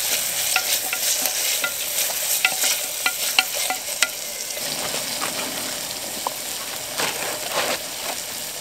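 Close, continuous scraping and clinking as cumin and chili flakes are stirred into lentil soup in a metal Swedish army m44 mess kit cooking outdoors, with a faint sizzle beneath.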